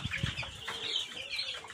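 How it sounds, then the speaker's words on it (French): Broiler chickens cluck and chirp continuously in a dense flock of about 25 in a farm pen, with occasional wing flutters, fairly close. "Chaque case, il y a 25 poulets de chair."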